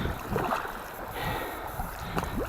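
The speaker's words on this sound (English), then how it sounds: "Trying out an inflatable kayak." An inflatable kayak out on the water, with soft paddle splashes and water lapping under steady wind noise across the microphone.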